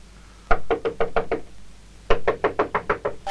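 Knocking on a door in a horror film, two quick bursts of about six sharp raps each, separated by a short pause, loud and close with no voices.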